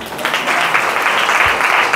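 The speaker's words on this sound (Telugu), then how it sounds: "ఒకసారి గట్టిగా చప్పట్లు కొడతారా?" A crowd claps loudly and steadily in a brief burst of applause.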